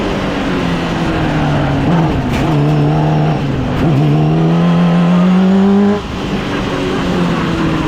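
A twin-turbo Honda CBR 600RR engine in a cross kart revs loud and close, its pitch climbing and dropping between throttle bursts, with a sustained high-rev stretch before easing off.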